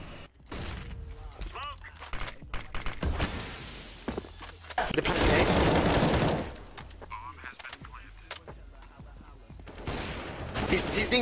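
Desert Eagle pistol fire in a video game during a livestream: bursts of sharp gunshots crack in quick succession, with a dense, loud stretch of overlapping fire in the middle and scattered shots and thuds around it.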